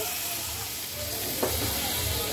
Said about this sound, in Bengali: এখন আমি দিয়ে দেব ঝোলের জন্য জল। এই দিয়ে দিলাম ঝোলের জল।